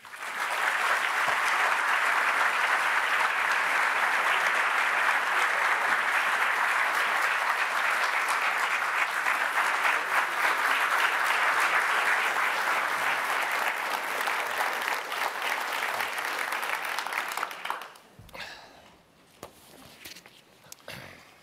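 A theater audience gives a sustained, loud round of applause welcoming Larry Thompson and Supreme Court Justice Neil Gorsuch to the stage, holding steady for about seventeen seconds before tapering off into scattered claps and shuffling.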